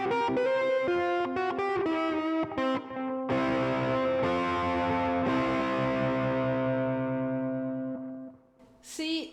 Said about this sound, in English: a little bit of crunch distortion